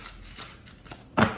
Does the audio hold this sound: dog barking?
no